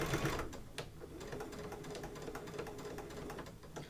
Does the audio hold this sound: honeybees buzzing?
no